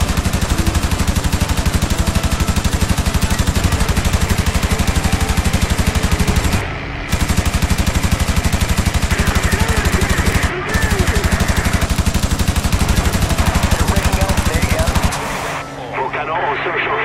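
Rapid, continuous aircraft machine-gun fire in the IL-2 Sturmovik Battle of Britain game hammers loud and close in long unbroken bursts, pausing twice briefly before stopping near the end, where a lower engine drone remains.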